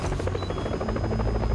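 Close, steady helicopter rotor chop throbs in an even rhythm, loud and continuous with no talking over it.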